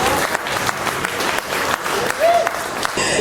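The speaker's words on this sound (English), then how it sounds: "Let's have a round of applause for that" An audience at a South Florida Jazz Hall of Fame induction ceremony gives a round of applause, steady and lively clapping with crowd voices mixed in for the whole stretch.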